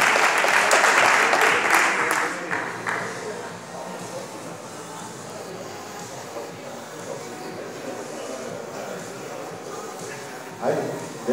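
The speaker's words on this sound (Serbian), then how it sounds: "Veliki aplauz za ovom gospodinu." Audience applause at the Serbia Open 2017 IBFF bodybuilding competition, a loud burst of clapping that fades after a few seconds into a murmuring hall, with a short swell of sound at the end.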